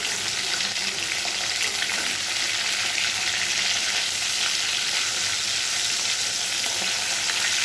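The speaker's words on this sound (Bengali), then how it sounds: "এটা হোক আস্তে আস্তে ভাজা" Several fish pieces fry slowly in oil in a pan for a Bengali fish curry with potatoes and stalks, giving a loud, steady, dense sizzle that holds unbroken from start to finish with no voices.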